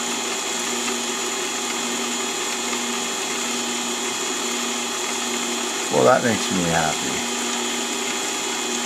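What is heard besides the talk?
drilling a 0.5mm hole on a mini-lathe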